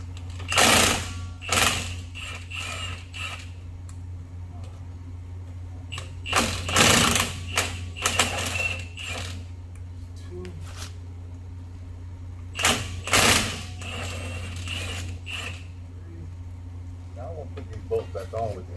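Impact wrench zipping screws off the drive shaft of a 1979 Cadillac Coupe DeVille during transmission removal, three short rattling bursts spaced several seconds apart over a steady background hum, with someone talking in between.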